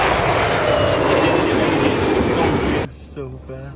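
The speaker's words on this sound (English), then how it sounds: "Both jets performed impressive flybys and maneuvers during the event." Roaring jet engine noise from an Airbus A319 or Fokker 100 making a flyby at an air show, loud and sustained, cutting off abruptly near the end as excited voices take over.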